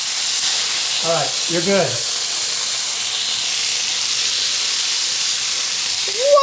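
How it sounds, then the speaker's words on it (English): Hot pan of oil on a gas flame spits and hisses as the splatter catches fire, a steady broad sizzle filling the scene with a few brief voices over it. "the pan moved over and the splatter was going on the flame, so it was actually on fire"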